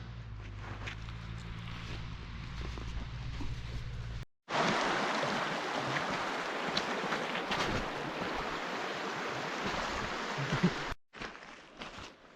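A river runs high in Scotland, with steady broadband rushing water mixed with wind buffeting on the microphone, broken by brief dropouts and a low rumble at the start.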